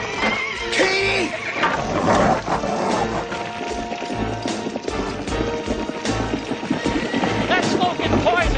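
Frantic horse neighs and whinnies ring out through a smoky barn fire, mixed with hoof clatter and shouting voices, loud and close throughout.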